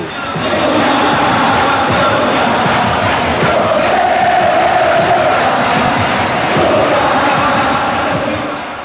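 A massive open-air election rally crowd in Rio de Janeiro in 1989 chants and cheers, a loud, sustained roar of many thousands of voices that swells and ebbs slightly without pause.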